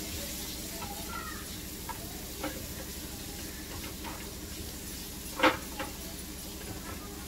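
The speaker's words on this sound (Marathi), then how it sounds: "आता याची कांदा टाकूया. मिक्स करूया चांगलं." Onion frying in a pan for white sauce pasta, a faint steady sizzle with a few soft stirring scrapes and one brief louder clink.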